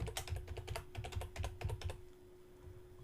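Rapid typing on a computer keyboard, a steady run of close, crisp key clicks that stops partway through and leaves a quiet hum.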